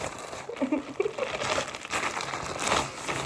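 A plastic bag crinkles and rustles up close in irregular bursts, with a brief murmur of voice early on.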